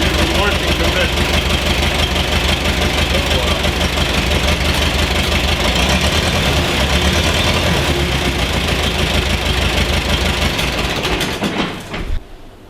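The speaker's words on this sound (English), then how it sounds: "The engine is in running condition. It runs and it goes" German Lanz Bulldog tractor engine idling in the remote Chaco of Paraguay, a loud, steady low thumping single-cylinder beat with a mechanical clatter that runs throughout before cutting off near the end.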